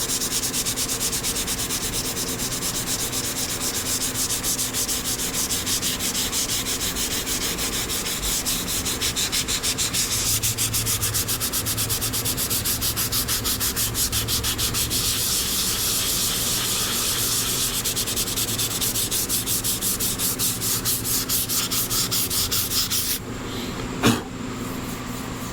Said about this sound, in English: see if I can't sand out this little imperfection right in here